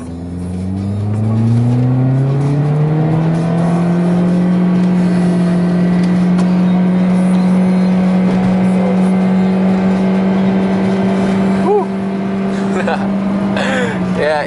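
Chipped 1500cc Toyota Auris driving at the speed limit, a loud steady engine drone from inside the cabin, its pitch rising then holding without gear changes, with people talking over it.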